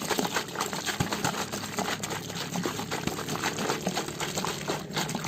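Liquid sloshing steadily inside a closed container as kulukki sarbath with green chilli is shaken hard, a continuous close watery churning with soft rhythmic splashes and no voices.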